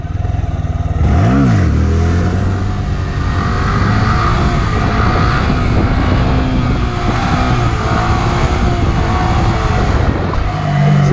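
A Honda Grom small motorcycle engine revs up sharply near the start, then settles into a steady, close, buzzing drone with minor throttle changes.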